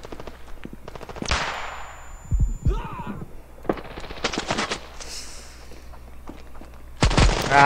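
Rapid automatic gunfire from a teammate in the mobile shooter Standoff 2, several loud close bursts of rattling shots separated by short pauses, with one final heavy burst at the end.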